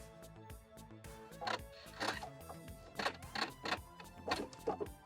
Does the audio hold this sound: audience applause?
no